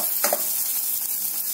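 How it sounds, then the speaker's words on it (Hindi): Whole coriander seeds and chopped green chilies hit hot oil in a kadhai, giving a steady close sizzle with a brief louder crackle near the start, no voices. "कढ़ाई में थोड़ा सा ऑयल डालेंगे, आधा चम्मच हम इसमें साबुत धनिया डालेंगे और तीन से चार हरी मिर्च चॉप करके डाल देंगे।"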